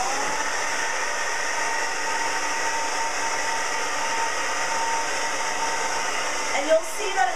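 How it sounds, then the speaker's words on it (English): A hair dryer blows steadily and close by as it dries a woman's hair for volume, a constant airy whoosh with a brief handling bump near the end. "So you're going to actually go ahead and start drying it towards your face."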